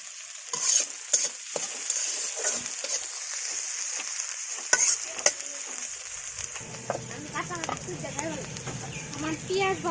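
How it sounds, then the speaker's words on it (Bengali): Onions frying in a pan for a mixed fish curry, with bright sizzling and repeated scraping stirs of a spatula, and a person talking faintly underneath toward the end. "আমার পেঁয়াজ ভাজা কিন্তু হয়ে গেছে"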